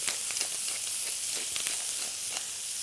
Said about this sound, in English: It's also making the thyme and the rosemary just pop, and you can hear it popping.